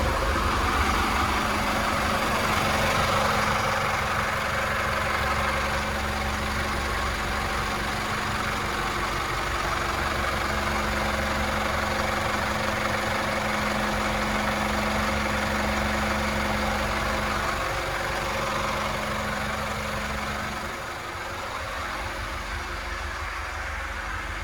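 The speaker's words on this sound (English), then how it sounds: "So let's show you the engine bay while these motors are running." Twin Volvo D4 260HP sterndrive engines idle in the engine bay of a Sealine S38 motor yacht, a loud, steady, close diesel drone with a constant low hum that eases slightly near the end.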